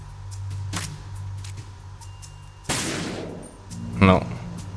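Gunfire in the video game Metal Gear Solid 2: Sons of Liberty comes as three separate sharp bursts spread over a few seconds. The last burst is the loudest, and a low game background hum runs beneath.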